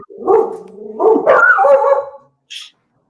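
Pet dogs barking indoors at a delivery driver arriving across the street, close and loud: a run of overlapping barks and yelps, then one short high yip after a pause.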